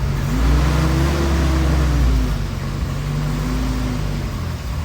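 A 1946 Willys CJ2a engine idles and revs steadily close by, its low droning note rising and falling as the old jeep drives under its own power after decades sitting in a forest.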